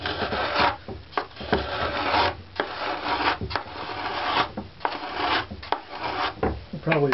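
A wooden violin bass bar is shaped by hand with a scraper, giving close, dry rasping strokes in an uneven rhythm with short pauses between them.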